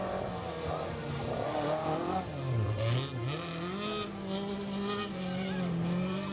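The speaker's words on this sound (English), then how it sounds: "And another beautiful Porsche taking the jumps well in their stride, of Frederick Rosati at the wheel with Julia" A classic Porsche rally car races over jumps at the East African Safari Classic Rally, its engine droning and rising in pitch as it revs through the rough stage, steady and fairly close.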